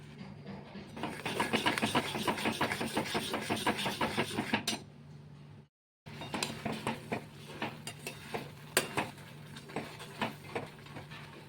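Cream is stirred continuously in a wok over low-medium heat to make ghee, with rapid rhythmic scraping of a spoon against metal, a brief silent break midway, then more stirring.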